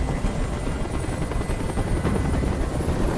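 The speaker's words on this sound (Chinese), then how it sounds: "I can't stand that noise anymore. Tell that helicopter to get out of here." A helicopter in the video game Detroit: Become Human, its rotor thumping loud and steady overhead throughout, a dense continuous roar with no talk.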